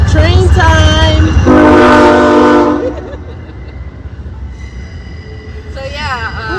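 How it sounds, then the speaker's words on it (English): A train horn blares in long loud blasts near a Jeep campsite, then fades as railcars rumble past, with a second horn call returning at the end. "Train time."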